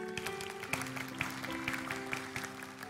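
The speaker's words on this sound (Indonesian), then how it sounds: "Kasih tepuk tangan Tuhan." Church congregation applauding during a sermon, faint scattered clapping over a low sustained musical hum.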